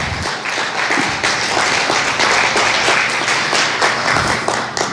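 A church congregation claps loudly and rhythmically together in unison, the close, bright hand claps continuing at a steady beat throughout.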